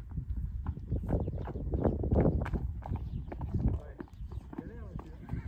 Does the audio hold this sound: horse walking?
yes